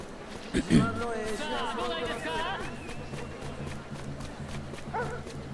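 A dog barks in the samurai action game Like a Dragon: Ishin!, a few sharp yaps and yips up close early on, then fainter whines, all over steady game ambience and music.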